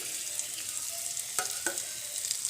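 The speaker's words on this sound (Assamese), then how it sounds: "আৰু এইখিনি অকণমান আকৌ মই ফ্ৰাই কৰি ল'ম" Cumin seeds and garlic paste fry in hot oil, a continuous bright sizzle with a couple of sharp spattering pops and light stirring, close and alone without talk.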